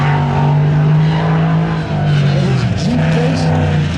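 Ultra4 off-road race car in the Limited Class driving hot on a dusty course at Shamokin, Pennsylvania, its engine a loud, sustained drone with a steady pitch that dips briefly mid-pass and then climbs again.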